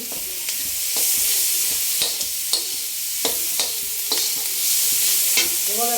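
Cumin, ginger and garlic paste sizzle steadily in a hot pan, with a continuous frying hiss broken by repeated scraping stirs of a spoon against the metal. No one talks.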